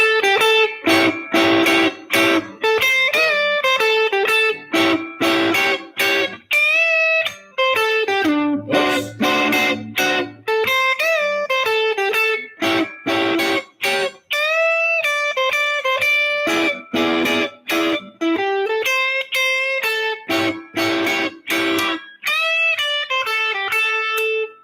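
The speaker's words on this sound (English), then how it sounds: "The neck pickup sounds very fat and juicy, kind of buttery sounding." Electric guitar on the neck pickup playing a blues-style passage, a steady run of picked notes and chords with warm, full tone, close and loud with no talking.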